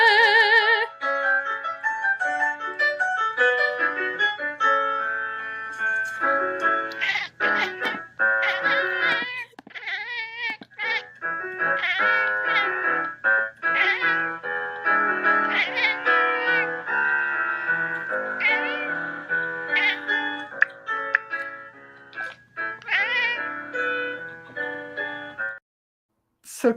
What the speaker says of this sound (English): let's give you the singing kitty